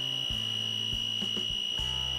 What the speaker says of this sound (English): it has detected the prisoner as the person has escaped the premises, and it's sounding a buzzer